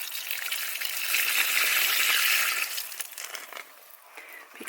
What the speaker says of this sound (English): Let's water while we talk.